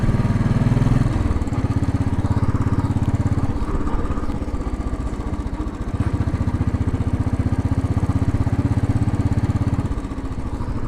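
A Royal Enfield Bullet motorcycle rides in third gear through city streets in Queens and Brooklyn, its single-cylinder engine giving a loud, steady, close thumping pulse that dips slightly around gear and throttle changes.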